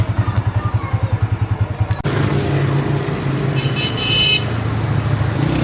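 Road traffic on a busy street: an engine idles in a rapid pulsing throb close by, then cuts out, leaving broad passing-vehicle noise with a brief horn toot.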